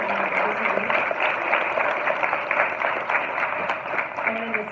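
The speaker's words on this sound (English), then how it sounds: "give these guys a round of applause" Audience applause at a legislative preview event, a steady, dense wash of clapping held for several seconds with faint voices mixed in.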